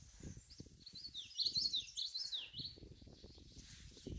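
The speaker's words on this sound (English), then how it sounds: "Birds chirping," Birds chirp outdoors near a parked van on a partly cloudy, sunny day, high thin calls in quick bursts that sound faint and somewhat distant over low, soft rustling.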